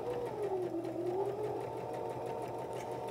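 Domestic sewing machine stitching forward on fabric after a short backstitch, a steady close-up motor whir with fast needle chatter, running continuously and alone.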